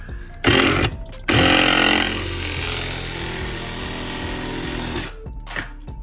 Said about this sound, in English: Bore out the hole now.